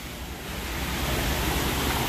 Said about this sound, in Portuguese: olha a quantidade de chuva.